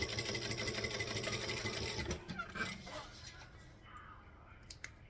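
A sewing machine stitches through vinyl with a steady, dense mechanical whirr for about two seconds, then runs a shorter, choppier burst of back stitching before falling to quieter handling sounds and faint clicks.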